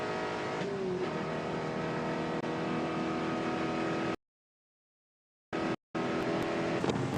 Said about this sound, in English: We can go on board with Josh as he heads down the front straightaway.